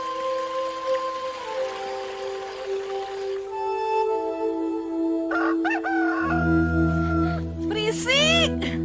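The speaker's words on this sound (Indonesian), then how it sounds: "Belum subuh tuh ayam udah kokok" A rooster crows repeatedly before dawn in a village, loud and close, its rising calls cutting over background voices and a low hum.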